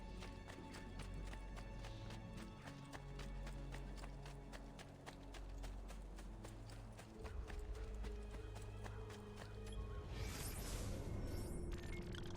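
Horse hooves clip-clopping in Assassin's Creed II, a steady rhythmic trot over a busy game soundscape, followed near the end by a swishing whoosh.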